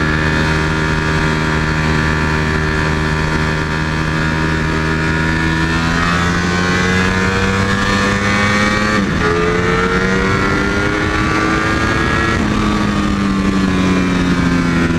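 A Ducati motorcycle's engine roars loud and close as it accelerates through the gears, pitch climbing steadily and dropping briefly at each shift before rising again, running continuously with no talk.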